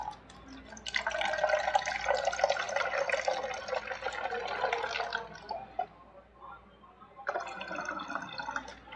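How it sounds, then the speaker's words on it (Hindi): Water is poured over a novelty magic trick bottle in two close, steady streams splashing and trickling, separated by a brief pause with faint drips. "पहले इस पे पानी डाल देते हैं,"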